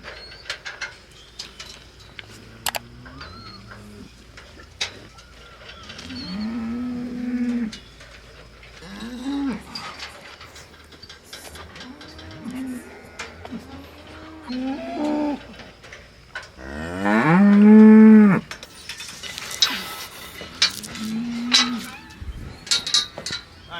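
Dry dairy cows moo repeatedly as they are moved out of a sorting pen toward another pen on a farm. The lowing is loud and close, with one long, louder moo near the end, over light metallic gate clatter.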